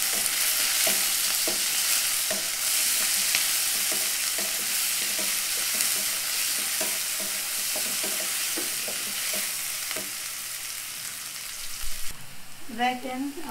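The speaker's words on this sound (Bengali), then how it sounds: "এইবার হচ্ছে পেঁয়াজ কুচিটা সুন্দর করে ভাজবো।" Chopped onion fries in a pan, a loud, continuous sizzle broken by repeated scraping stirs of a spatula, easing off near the end as a brief clatter takes over.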